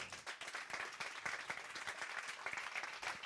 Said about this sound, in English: I think we should start by giving a big round of applause.